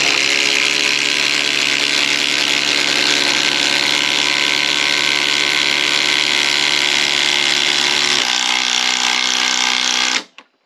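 A DeWalt cordless power tool on a 5 amp hour battery runs flat out in a loud, continuous whine during a battery comparison test, its pitch dropping slightly near the end before it cuts off abruptly.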